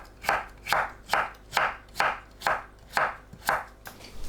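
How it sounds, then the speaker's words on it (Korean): A knife cuts cucumber into 5–7 cm lengths and thin julienne strips on a board, nine crisp, evenly spaced chops at a steady rhythm, close and clear with no talking. "5cm에서 7cm 길이로 자르고 채 썰어주세요"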